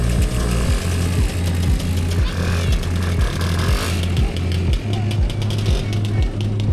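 Motorcycles rumble past at the Rajd Koguta 2025 rally, a loud, throbbing engine drone pulsing in a steady rhythm close by, with a voice talking over the noise.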